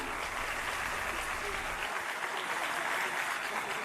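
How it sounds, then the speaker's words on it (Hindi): Loud, dense applause from a large audience at a political rally, a continuous wash of clapping that carries on steadily throughout with no talking. "जोरदार तालियां।"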